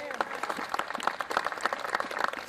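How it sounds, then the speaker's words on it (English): A gathered audience bursts into steady, dense applause and hand clapping, a continuous patter of many hands sustained throughout. "Let's give God a hand clap."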